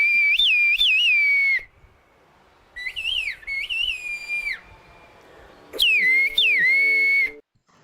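Silbo Gomero, the whistled language of La Gomera, rings out in a series of loud, clear, gliding whistles, modulating up and down in phrases separated by short pauses, with no talking.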